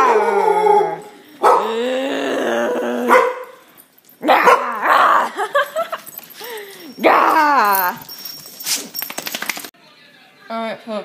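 Dogs barking and howling up close, loud drawn-out howls broken by yips and short barks in uneven bursts with brief pauses between them.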